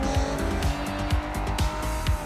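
A fast car driven in the video game Sleeping Dogs, its steady engine drone running throughout with repeated tire squeals and skids, loud and close, with no talk.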